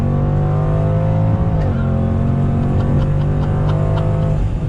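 The 2020 Jaguar F-Pace SVR's engine pulls hard under full throttle, a loud, close roar climbing in pitch, dropping briefly at a gear change and then building again.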